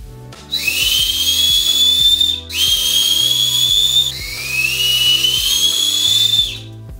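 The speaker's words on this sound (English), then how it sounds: "that whistle is deafening. It is absolutely ear-piercing." A 3D printed whistle is blown in three long, loud, piercing blasts, each a steady shrill tone that rises slightly, with brief pauses between them and background music underneath.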